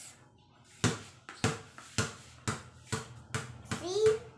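A ball bounces on a hard floor in a series of about eight sharp, evenly spaced impacts, with a voice chiming in near the end.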